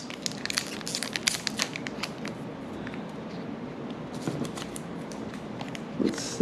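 Plastic wrapper of a 2021 Goodwin Champions trading card pack being cut open with a dull blade and unwrapped, giving close crinkling, crackling and scraping bursts, busiest in the first two seconds and again near the end.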